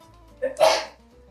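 A single sharp sneeze bursts out close by, preceded by a brief inhaled catch of breath.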